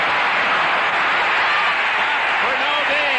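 Football stadium crowd cheering and applauding at a 1979 Steelers versus Chargers game, a loud, dense roar sustained throughout, with a commentator's voice over it.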